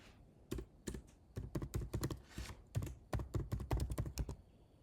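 Keystrokes on a computer keyboard while entering Python code, a quick irregular run of close, crisp clicks with short pauses between bursts, no voice.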